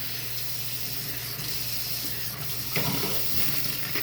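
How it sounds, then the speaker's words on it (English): Tap water runs steadily over a sink during house cleaning, a continuous close splashing rush with a slightly heavier spatter toward the end. "Okay, I'm rinsing."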